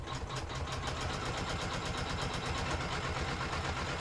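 Embroidery machine stitching a wallet in the hoop, giving a steady, fast, rhythmic mechanical chatter of needle strokes that runs continuously and evenly from start to end, close and with no voices.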